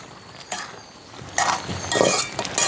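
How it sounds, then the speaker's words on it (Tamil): A spoon clinks and scrapes against a metal pot in a few irregular bursts of stirring curry with turmeric powder, close and clear, with no voices. "இதையும் வடிவாக நாங்கள் கலந்து விடுவோம்."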